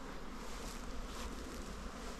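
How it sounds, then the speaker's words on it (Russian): Honey bees buzzing densely at an apiary among acacia and rapeseed blossoms, a continuous, even hum of many insects close by with no voices. "Ну пчела, дивлюся далеко не летая, все рядышком сидить."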